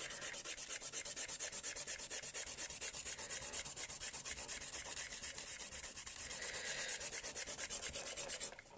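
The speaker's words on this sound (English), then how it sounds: "Now I'm going to rub out." Pencil lines on a paper mandala drawing being rubbed out with an eraser: steady, rapid back-and-forth scrubbing strokes, close and continuous for the whole stretch.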